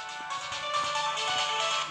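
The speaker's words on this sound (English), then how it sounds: "We are interrupted by a phone call." A telephone rings inside a home in Mitrovica, Kosovo: a steady electronic ringtone with bright repeating tones, moderately quiet and alone without talk for about two seconds.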